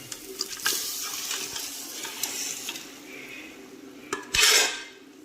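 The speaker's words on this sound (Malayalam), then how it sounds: "നല്ലോണം ഇളക്കി യോജിപ്പിക്കുക." Cooked country chicken in its broth is stirred in a pan, with a spoon clinking and scraping against the metal over a faint simmer, ending in a brief louder watery splash and scrape.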